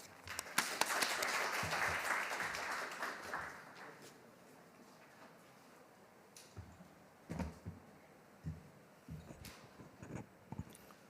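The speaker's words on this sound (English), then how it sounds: "Please welcome him with applause." Audience applause at a conference on brain-computer interface standards, welcoming an ITU official to the podium: a burst of dense clapping that swells at first, then thins out to a few scattered claps after about four seconds.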